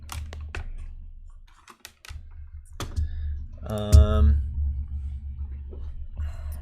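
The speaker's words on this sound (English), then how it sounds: "I do not have a mechanical keyboard. This is just the Apple keyboard." Light clicking keystrokes come from a standard Apple non-mechanical computer keyboard, in irregular close taps amid low rumble, with a person talking over part of it.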